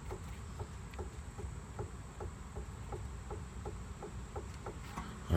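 A worn outer axle bearing on a 2003 Ford Crown Victoria Sport makes a faint, steady ticking that repeats at an even pace over a low rumbling background, with no voices.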